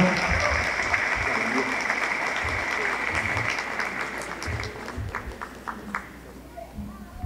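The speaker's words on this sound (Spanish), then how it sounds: "a quien vamos a recibir un fuerte aplauso" An audience applauds loudly to welcome Pastor Alex Sampedro at a leadership talk, a dense, sustained ovation that fades into scattered claps near the end, with voices underneath.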